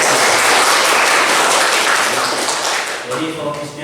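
Loud, dense applause from a class of students filling the room, steady throughout with slight thinning near the end.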